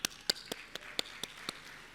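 A few people in an audience clap sparsely, seven or so distinct claps spaced about a quarter second apart, close and thin rather than a full ovation.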